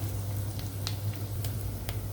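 Garlic and dried coriander stirred into onion and spinach frying in a pan: a steady, close sizzle with a few brief scraping clicks from the stirring.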